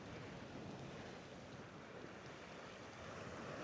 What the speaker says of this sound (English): I love watching the waves crash along these sheep piles.